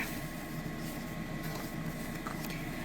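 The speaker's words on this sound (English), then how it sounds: "if you're hearing that, that is my air conditioner" A room air conditioner runs in a hot Texas home, a steady, continuous broadband hum and whoosh that holds at an even level from start to finish, with no talk over it.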